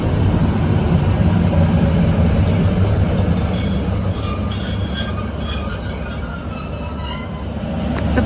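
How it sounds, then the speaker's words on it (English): Northern train 156443 rolls through Cramlington station at close range, a steady loud rumble of wheels on rail with high metallic squealing throughout. "Is the delayed 1409 Northern service from Carlisle to Morpeth."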